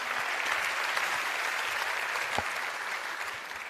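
A large formal audience at the UEFA Champions League 2019/20 group stage draw gives Petr Cech a warm round of applause, a dense continuous roar of clapping that holds steady and begins to ease at the end.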